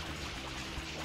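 Water sprays in Super Mario Sunshine as a short, dense, continuous gushing rush, loud and close, with no talk over it.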